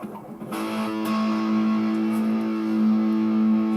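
A Gilbert Les Paul Custom electric guitar through distortion and effects: a picked note rings out and sustains steadily, close and fairly loud, with no talking.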